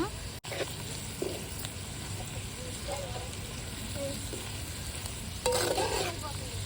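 Goat tripe (boti) sizzles steadily in a pan for village-style curry, with scraping stirs and a louder burst of spatula clatter near the end; low murmurs of background talk sit under the frying.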